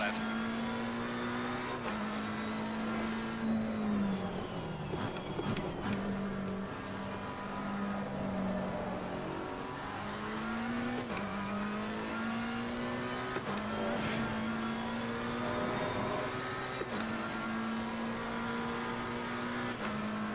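Race cars circling the Hungaroring in Assetto Corsa Competizione, with a steady engine drone that rises and falls through gear shifts and a voice talking over it throughout.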